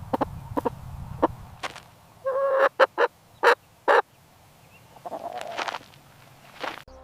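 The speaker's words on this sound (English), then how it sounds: "It's a chicken." A chicken lets out a series of short, sharp clucks and squawks, some in quick bursts, with a soft rustling background between calls.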